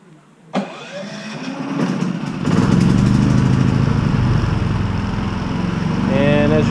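A click, then an Onan Cummins P4500i portable inverter generator sputters to life and settles into a steady, fairly quiet running hum, close by.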